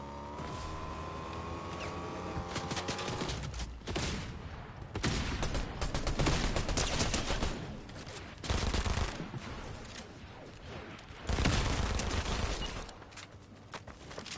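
Rapid bursts of gunfire from an Avengers video game featuring Iron Man Mark 45, coming in loud repeated volleys with short gaps between them and no talk over it.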